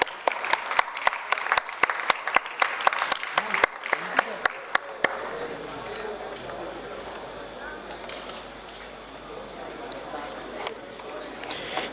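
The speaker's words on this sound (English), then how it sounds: "Please give a round of applause for ma'am." An audience at an innovation hackathon event applauds, with loud, distinct claps at first that give way to fainter, scattered clapping and background murmur.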